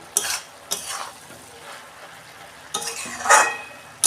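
Cabbage cooking in a pan gets stirred with a utensil, giving a few separate scraping strokes over a soft, low sizzle, close by and moderately loud.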